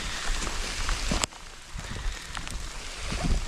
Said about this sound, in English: it was raining